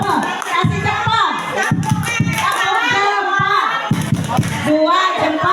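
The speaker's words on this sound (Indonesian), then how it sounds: "Kasih tepuk hebat Bapak Ibu ke Guru Mapel" Audience in a school gathering giving a round of applause to the subject teachers, dense hand clapping with crowd voices and cheering mixed in, fairly loud and steady throughout.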